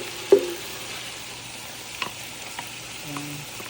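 Ground pork giniling sautéing in a pan with tomato sauce, a soft continuous sizzle and frying hiss with a few light stirring clinks, close and fairly quiet.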